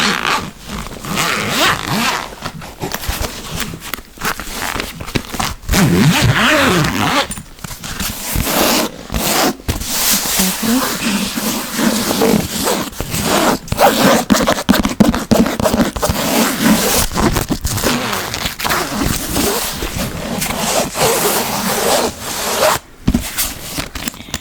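Continuous close scraping and rubbing of a zipper being worked along a fabric Bible cover, steady and loud with brief pauses throughout.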